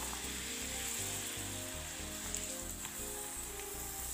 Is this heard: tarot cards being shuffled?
no